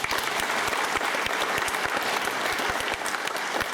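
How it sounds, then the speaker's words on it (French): An audience applauds at an Académie Alphonse Allais induction ceremony in Honfleur: a continuous crowd of clapping hands with a few sharp, close claps standing out, lasting a few seconds without talk. "Sous vos applaudissements."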